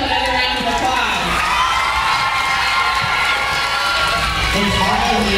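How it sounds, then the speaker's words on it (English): A crowd of students at a school rally for Khan Academy LearnStorm prize winners cheers and shouts loudly, with high children's voices, whoops and some clapping merging into one continuous, close roar from start to finish. "Please give yourself another round of applause."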